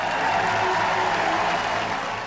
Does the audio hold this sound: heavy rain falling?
no